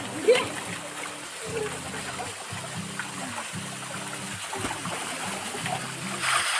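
Somnath waterfall near Chandrapur, surrounded by big shady trees, gives a steady wash of splashing water throughout, while someone speaks in regular bursts over it.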